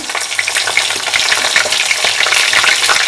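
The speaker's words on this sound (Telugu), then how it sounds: "జీలకర్ర మినప్పప్పు వేసానండి తాలింపులో ఇప్పుడు కొంచెం పచ్చిమిర్చి వేస్తున్నాను" Loud, dense sizzling and spattering of green chillies frying in hot oil with cumin and urad dal, close up and continuous, with faint stirring underneath.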